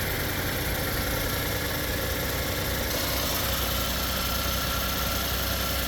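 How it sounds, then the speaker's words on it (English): A car engine idles steadily nearby, a continuous even rumble with faint mechanical vibration and no change in pace, with no voices present. "But motor sounds great."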